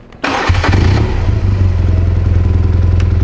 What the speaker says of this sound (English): To test the bike on a BMW, you have to start it. So we'll start it.